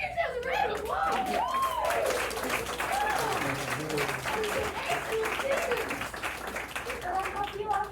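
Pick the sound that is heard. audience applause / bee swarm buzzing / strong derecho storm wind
audience applause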